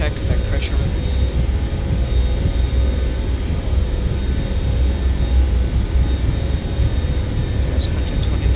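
A Boeing 727's jet engines roar steadily at takeoff thrust, a loud and constant low rumble heard from inside the cockpit. Pilots call out over the engine noise.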